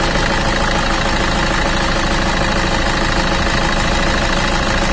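A diesel Toyota Kijang Innova V 2008 with automatic transmission idles close by, a loud, steady, even rumble with a faint knocking clatter running through all five seconds, no voices.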